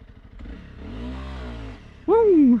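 A lightweight adventure motorcycle, a BMW G 310 GS or Honda CRF300L Rally, accelerates hard from a stop, its single-cylinder engine revving up through the gears and ending in a loud, high rev near the rider.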